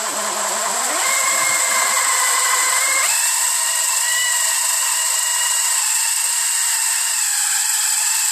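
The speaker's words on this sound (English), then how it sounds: "I'm gonna go get the drill, see what I can do with that." Power drill whining as it bores into metal during collision repair on a 2013 Honda Accord, a high steady motor tone that climbs in pitch in two steps and then holds loud and close for several seconds, with no talking.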